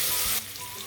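Crushed garlic and shallots frying in a pan, a bright loud sizzle that drops to a softer crackle partway through, close up and without voices.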